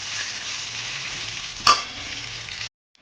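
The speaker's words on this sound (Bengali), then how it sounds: "এবার টমেটোটা দিয়ে ভেজে নেবো একটু।" Tomatoes sizzle steadily in a frying pan for a katla fish curry. There is one sharp clatter midway, and the sizzle cuts off abruptly near the end.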